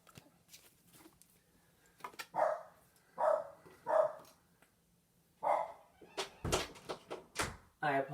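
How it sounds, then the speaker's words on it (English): A dog barks indoors in a handful of loud separate woofs, with a few thuds and a voice speaking quietly among them. "I apologize for the dog barking."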